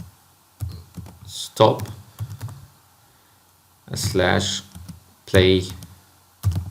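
Clicks from typing on a computer keyboard come in short scattered bursts during a computer lesson, mostly beneath and between a person's steady talking.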